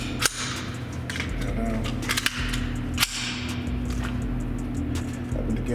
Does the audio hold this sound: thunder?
no